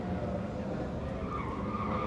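A drift car slides at a Southeast Asia Drift Series round in the Philippines, a steady skidding roar of tire and engine noise heard from a distance, continuous and even throughout.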